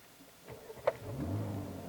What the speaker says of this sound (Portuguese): ele faz uma sonoridade maior no escapamento